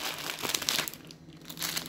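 A plastic packet of clips crinkles and rustles up close as one clip is pulled out, with a steady run of crackling handling noise.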